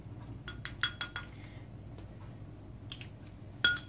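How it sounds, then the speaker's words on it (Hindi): A spoon clinks against a bowl while tomato pulp is added for a homemade skin-care mix: a quick run of sharp metallic taps, then a pause, then a few more scattered clinks, faint and close. "हमने स्पून उठाया, इसमें ये 2 स्पून हम इसमें ये टमाटर पल्प डालेंगे"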